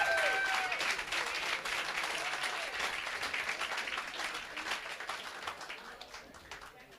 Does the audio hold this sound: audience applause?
yes